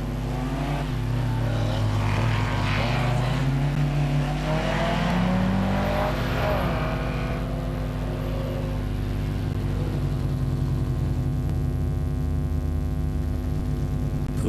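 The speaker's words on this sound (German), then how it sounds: "Der Holländer Bergsma im Porsche wird noch vor der nächsten Kuppe vom Finnen Erki Granlund mit dem Ascona überholt" Rally cars at the 1994 Youngtimer Rallye Köln-Ahrweiler race over a crest as an Opel Ascona overtakes a Porsche, engines roaring and rising as they pass, then settling into a steady distant drone.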